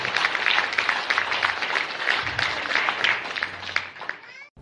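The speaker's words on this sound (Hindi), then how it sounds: "मैं चाहूंगा कि महापौर अनुपम जी के लिए एक जोरदार ताली बजाकर उनकी साथ।" An audience gives loud applause for a mayor at a civic gathering in Bihar, with dense clapping and crowd noise mixed with voices, which thins out and stops near the end.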